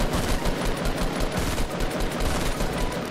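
Rapid automatic gunfire from the Fortnite video game fills the moment, a dense, continuous rattle of shots at steady loudness with no talk over it.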